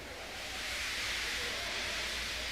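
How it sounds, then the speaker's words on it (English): Steam locomotive in a Trainz simulation releases a soft, steady hiss of escaping steam, a continuous even rush that holds for a couple of seconds with no talking over it. "He just let off steam feebly."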